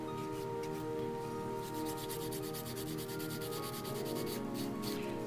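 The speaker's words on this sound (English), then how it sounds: "These are one of the best 150 grit files I have found." A 150 grit nail file worked briskly over acrylic nails, fast repeated scratchy strokes close up, steady and continuous over a faint background hum, no talking.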